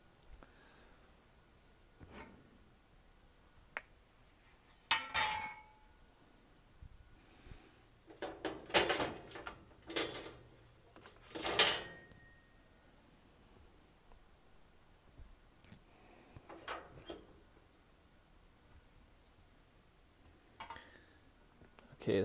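Covers are pulled off a Heatilator Caliber Series 36-inch gas fireplace, with scattered metallic clacks, scrapes and rustling handling noises in bursts separated by quiet pauses.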